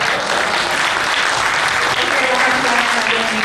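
Audience applause at a talk show fills the space, dense and steady throughout, with a voice speaking faintly beneath the clapping.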